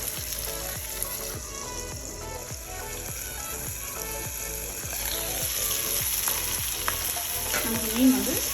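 Masala fish fries in a pan with a steady soft sizzle, broken by regular light scraping ticks that repeat about every half second and then grow busier toward the end.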